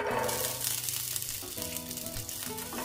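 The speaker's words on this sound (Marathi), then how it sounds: "आता आपण 1 चमचा तेल ओतून त्यामध्ये थोडा वाटाणा फ्राय करून घेणार आहे." Green peas frying in a spoonful of oil for matar paneer, a continuous soft sizzle with faint stirring, heard under sustained tonal background sounds and without any speech.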